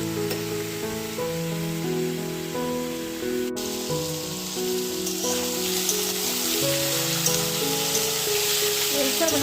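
Potato and watermelon frying in oil in a home kitchen, a steady soft sizzle running throughout beneath louder sustained background music, with no talk.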